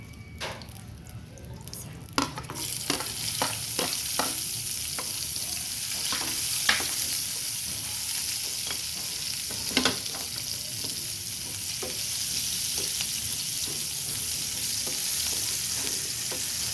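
Garlic and onion fry in a pan with tofu and pork, giving a continuous close sizzle. Sharp scraping taps from stirring come in irregular bursts, heavier early on, with no speech.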